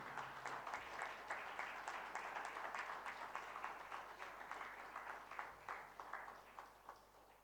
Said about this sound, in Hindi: स्मृति चिन्ह के साथ एक बार जोरदार तालियों से